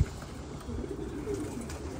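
Pigeons from a loft of Zubayri, Rummani and Arafil breeds cooing softly and steadily at close range, low throaty murmurs running continuously with no talk over them.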